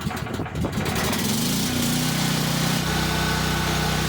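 Portable backup generator engine for a power outage starts after brief cranking, catching into a steady close engine drone with a rising hum as it settles.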